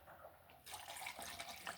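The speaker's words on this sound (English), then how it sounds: "So guys, I'm gonna pour the milk in." Coconut milk poured into a pancake batter of avocado and oatmeal, a steady liquid stream starting abruptly and running continuously, close and moderately loud, with no talking.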